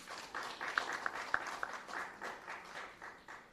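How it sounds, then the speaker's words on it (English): An audience gives a round of applause at a national identification system contract signing ceremony. The clapping is faint and distant, with a few sharper claps standing out early before it thins away. "I think that element deserves a big round of applause."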